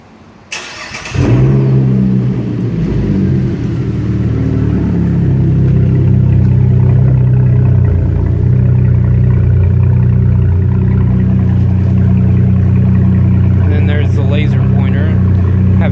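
A Pontiac G8's engine starts with a sharp crank and catch, then settles into a loud, steady idle with deep rumble and light revving, continuous and close up with no talk over it.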